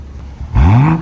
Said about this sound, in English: rev it up for me